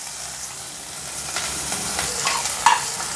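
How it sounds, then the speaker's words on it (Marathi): Chilies and onion frying in oil in a pan for tamarind kadhi, a soft steady sizzle with a few spoon scrapes and light clinks, close and fairly quiet with no talk. "आता हे बघा भाजती त्याला कांद्या संग."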